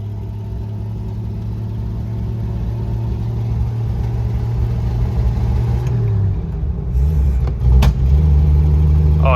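A 1937 Nash car engine drives along in high gear, a loud steady mid-low hum that drops in pitch partway through, with a brief knock near the end and no talking.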